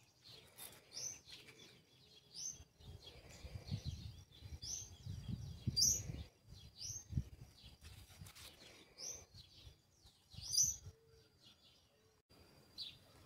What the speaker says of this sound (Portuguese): O barulho dos pássaros aqui tem bastante.